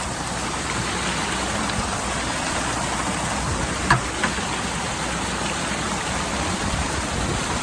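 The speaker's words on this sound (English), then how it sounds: "And we just have water flowing." Spring water running full after a flood, a steady broad wash of flowing water close by, continuous and even with a couple of faint brief knocks midway.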